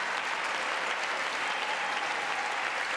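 Sustained audience applause filling a State of the Union address chamber, a dense, steady wash of clapping from a large crowd, even in loudness throughout with no talk over it.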